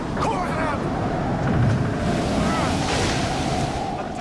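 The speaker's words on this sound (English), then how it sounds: "You put them all together, including the sound effects that Mike McDonough did, the crashing thunder, the wind, the rain," Crashing ocean waves in dark, stormy weather off Hawaii, a continuous loud roar of surf and wind rumble with swells rising and falling, heard alone without talk.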